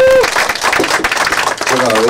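A crowd claps in welcome at a political party's second-anniversary ceremony, steady dense applause throughout with a voice speaking over it at the start and end.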